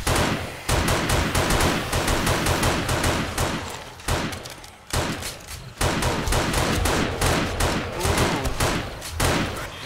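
Dense, continuous gunfire during a zombie horde battle in 7 Days to Die (Alpha 18). Rapid automatic bursts and overlapping shots run loud almost without pause, with brief lulls between volleys.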